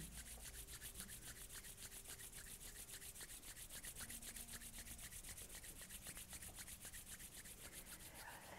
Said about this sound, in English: Now rub your palms together and feel an activation of your hands.